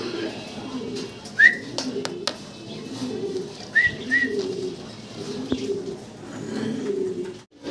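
Pigeons for sale coo and call close by at a market, with soft rhythmic cooing that repeats under low background noise and a few short whistle-like notes.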